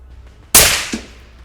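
A single sharp, loud sniper rifle shot cracks out of quiet surroundings and trails off in a long echoing decay.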